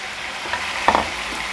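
Chicken gravy simmering on a low flame in a pan, a soft continuous sizzle with a couple of faint stirring clicks, close and steady with no voices.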